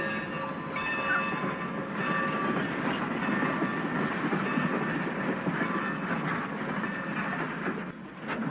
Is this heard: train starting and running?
yes